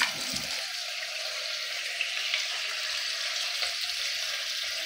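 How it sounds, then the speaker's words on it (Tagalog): Leftover dish reheating in a little cooking oil in a pan, a steady close sizzle and crackle of frying throughout with no talk. "Ininit ko ngayon. Nilagyan ko lang siya ng konting mantika."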